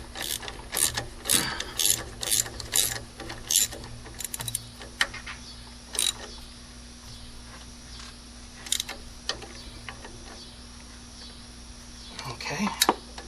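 Ratchet wrench tightening upper motor mount bolts on a Chrysler PT Cruiser, with rapid bursts of clicking pawl strokes in quick runs, then sparser single clicks and a final flurry, close up in a quiet garage.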